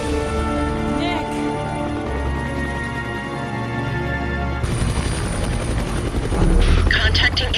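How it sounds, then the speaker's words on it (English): Helicopter flying in the video game Psi-Ops: The Mindgate Conspiracy, a loud steady rotor drone throughout, growing harsher and brighter partway through. "Nick swiftly follows in the chopper he originally landed in"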